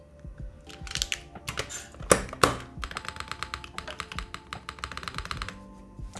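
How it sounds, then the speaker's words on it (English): Light taps on the bare plate of a Neo80 TKL mechanical keyboard give a quick run of hollow clicks with a few louder knocks in the middle, close up and clear, with no voices. "if we tap on the plate itself, the plate makes the same noise as the spacebar"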